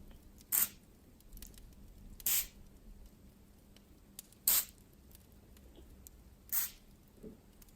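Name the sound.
pillow mist spray being sprayed around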